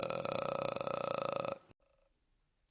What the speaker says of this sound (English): There is another register called vocal fry,